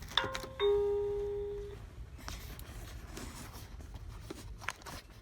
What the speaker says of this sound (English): I don't know if that's ringing the doorbell inside.